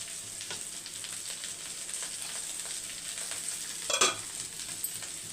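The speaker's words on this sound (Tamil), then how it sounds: "வெண்டைக்காய் வந்து வதங்கணும் நடுவில் நடுவில் மிக்ஸ் பண்ணி கொடுத்துக்கோங்க" Okra sizzles steadily in a hot pan, with occasional scraping stirs and a brief louder clatter near the end.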